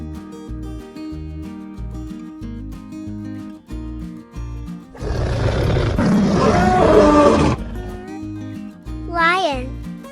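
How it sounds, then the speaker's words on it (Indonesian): A lion gives one loud, rough roar lasting a few seconds, over steady cheerful background music, followed by a brief voice-like sound. "lion"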